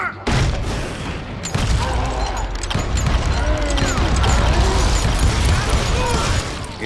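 Rapid gunfire rattles in the Western shooter game Call of Juarez: Gunslinger, loud bursts of shots and impacts layered over a dense, continuous din of action.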